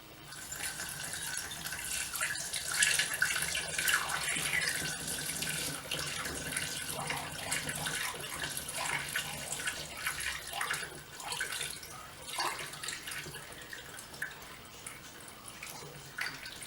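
Yeast starter is poured into a growler for home brewing, a steady watery trickle and splash running for the length of the clip, fairly quiet and close, with no talk.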